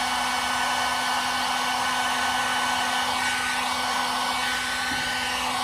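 A heat gun blowing hot air onto a roof rack cap to loosen its adhesive, producing a loud, steady whooshing drone with a constant motor hum, close and unbroken throughout.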